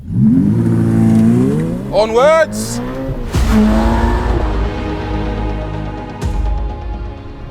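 A Ferrari F8 Spider's V8 engine revs and accelerates hard with rising, sweeping pitch, tires squealing briefly, while a voice speaks over it.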